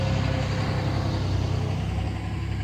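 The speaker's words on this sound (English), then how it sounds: "A truck passed by" A truck rolls past on the road with a steady, loud low rumble of engine and tires that fills the whole stretch without letting up. No voices are heard.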